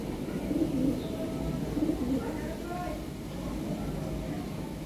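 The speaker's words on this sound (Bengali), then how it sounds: "বিশাল সাইজের কবুতর।" Large Lahori pigeons coo in low, soft, repeated phrases amid steady background noise, fairly faint and near, with a person talking.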